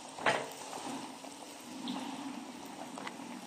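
Qatayef dough frying in plentiful hot oil, a steady bubbling sizzle with a brief louder burst of crackle near the start, held close and even throughout.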